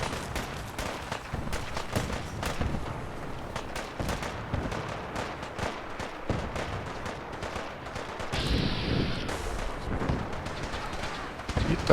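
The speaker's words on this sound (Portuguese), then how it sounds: "tá rolando tiroteio de tudo quanto é jeito, olha lá" Shootout gunfire in Fallout 4, a steady crackle of shots and distant bursts from several sides, with someone talking over the battle noise throughout.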